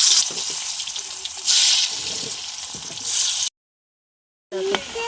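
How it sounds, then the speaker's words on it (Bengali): Carrot pieces frying in oil for a cauliflower-paneer veg biryani: a continuous crackling sizzle with a few louder surges, cut by a second of total silence, then the frying sizzle briefly resumes. "গাজরগুলো ভেজে নেবো"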